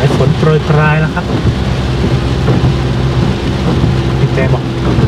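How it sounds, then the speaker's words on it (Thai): Rain falls on a car driving the winding Doi Phu Kha mountain road in Nan, making a steady close patter and hiss, with a voice speaking briefly near the start. "สายฝนโปรยปรายแล้วครับ"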